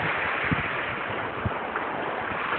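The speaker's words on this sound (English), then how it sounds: "Very gentle waves. Very gentle, gentle waves." Very gentle ocean waves lapping at the shore, a soft continuous wash with a couple of small splashes, muffled by light wind on the microphone.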